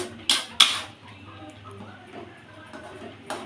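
A metal lid clinks twice against a cooking pot as it is lifted off boiling flowers, followed by quiet kitchen bubbling and one more sharp clank at the end, with a voice speaking faintly in the background.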